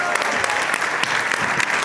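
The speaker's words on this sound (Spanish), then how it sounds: "pedirles un fuerte aplauso para nuestras panelistas" An audience applauds panelists at a technology and innovation event, a dense burst of steady clapping filling the room.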